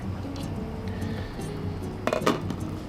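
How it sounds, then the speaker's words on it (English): A lid set back onto a cooking pot of saffron risotto, two quick metallic clinks close by near the end over a steady low kitchen hum. "Gonna pop a lid back on it."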